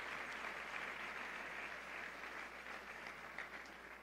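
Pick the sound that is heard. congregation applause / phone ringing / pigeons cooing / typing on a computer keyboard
congregation applause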